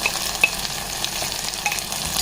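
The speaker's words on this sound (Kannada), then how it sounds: "ಇದು ಸ್ವಲ್ಪ ಹಸಿ ವಾಸನೆ ಹೋಗೋ ತನಕ ಬಾಡಿಸ್ತೀನಿ" Tomato paste and onion sauté in a pan with a dense, even sizzle, close up, with a few light clicks of a spoon; no voices.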